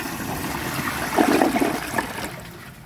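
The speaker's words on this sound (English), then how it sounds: "I'm going to just give it another flush and see if it can take the rest." Kohler Elliston Rev. 360 toilet flushing close up, a rushing swirl of water that swells after a second and then drains away into a fading trickle.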